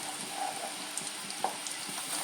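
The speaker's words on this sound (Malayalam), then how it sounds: "കുറേശ്ശെ നമുക്കിട്ട് വറുത്തെടുക്കാം." Peanuts coated in an egg batter fry in hot oil over a low flame, giving a soft, even sizzle with a few light pops, quiet and close, with no talking.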